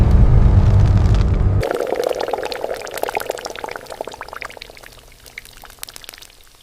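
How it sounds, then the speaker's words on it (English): Molten gold poured from a crucible into a graphite mold inside a gold refining plant: a loud, steady rushing pour for over a second, then a sizzling, crackling hiss that slowly fades. "The molten gold is poured into the graphite mold."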